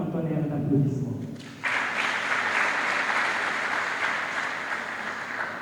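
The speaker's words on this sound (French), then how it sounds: "féliciter chaleureusement par un tonnerre d'applaudissements" Dense, sustained applause from a large audience at the opening ceremony of an academic conference, breaking out suddenly after a voice and continuing steadily and evenly to the end.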